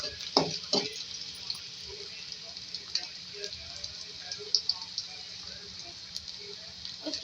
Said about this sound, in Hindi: साथ में प्याज को पहले फ्राई करेंगे।